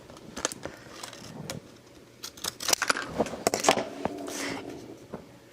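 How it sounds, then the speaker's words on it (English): Decorative scissors snip through patterned paper for a card in short irregular bursts of crisp cuts, with a brief pause between each run as the blades are moved along, close and fairly quiet. "you can't cut very far before you have to move your scissors along to continue the pattern"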